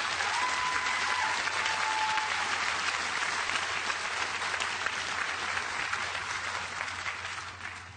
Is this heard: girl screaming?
no